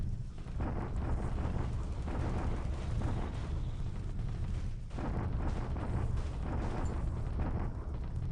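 Naval bombardment in the War in the Pacific video game, a continuous barrage of deep rumbling explosions and booming blasts that overlap without pause, loud and dense throughout with a brief dip midway.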